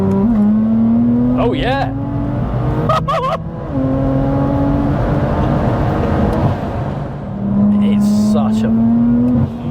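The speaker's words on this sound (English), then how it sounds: "I might be able to hook 4th gear anti-lag, I'll try it." An 850bhp BMW M240i roars hard under acceleration with anti-lag, its engine note climbing through the gears with sharp pops and bangs at the shifts, loud and close from inside the cabin as someone talks over it.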